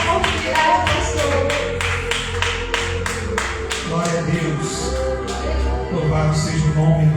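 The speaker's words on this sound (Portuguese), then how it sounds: "Você pode dar uma salva de palmas para o Senhor." A church congregation claps in steady rhythm, with sharp, evenly spaced claps over low music and voices.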